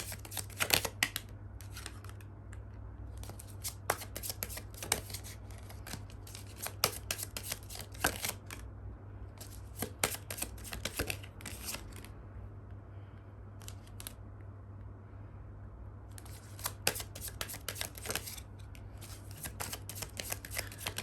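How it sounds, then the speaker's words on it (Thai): Tarot cards are shuffled for a reading in repeated quick riffling bursts, crisp close papery flutters separated by short pauses over a quiet background hum. "ขอไพ่เพิ่มเติมให้กับตัวคุณเองหน่อย"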